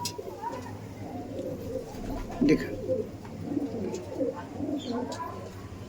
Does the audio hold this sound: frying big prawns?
no